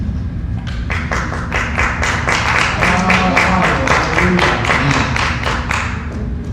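A church congregation applauds loudly and continuously, a thick wash of many hands clapping with a faint rhythmic pulse and some voices mixed underneath.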